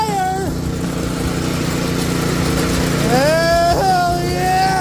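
A homemade drift trike's small engine runs steadily close by, with a droning tone that rises as it revs up twice, and a voice talks over the engine.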